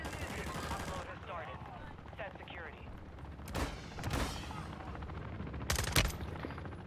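Gunfire in the battle-royale shooter Warzone 2, with a few sharp broadband cracks and short bursts standing out over a busy game mix, and a voice speaking in the first second.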